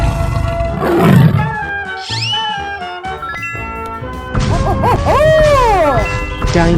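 A tiger in a 3D animal slide game gives a loud roar, followed by twanging, sliding game effects and a second swooping roar near the end, over busy background music.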